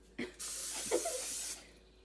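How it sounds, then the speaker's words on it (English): Cooking spray hisses onto a pan in a kitchen in one steady burst of a little over a second, close and loud, with a faint voice murmuring underneath. "and then you spray the pan"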